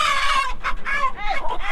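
Roosters in a chicken tractor on a homestead, crowing and clucking in short overlapping bursts, close and fairly loud, with no talk over them.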